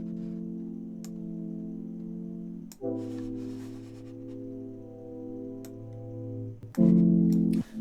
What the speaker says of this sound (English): I just went through my splice packs and found this loop which I like the sound of